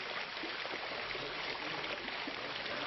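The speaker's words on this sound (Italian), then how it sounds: "L'acqua, simbolo di vitalità, scorre sulle tavole della legge" Water flows over stone tablets carved with the Ten Commandments at a fountain at Domus Galileae, a soft continuous rushing trickle, even and moderately faint with no voices.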